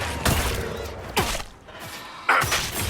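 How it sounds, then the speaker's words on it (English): Three sharp fire-spell blasts from a mage's staff in Dragon Age Inquisition, spaced about a second apart, each a loud thudding burst with a short whooshing sweep trailing off. "I forgot for a second that I could shoot fire out of my stick"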